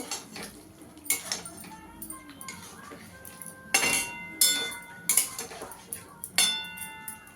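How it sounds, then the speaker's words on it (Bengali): A metal spoon clinks and scrapes against a pan in irregular bursts while fried pointed gourd is mixed in, the sharp knocks loud and close with quieter pauses between. "পটলটা দিয়ে ভালো করে মিশিয়ে নেব।"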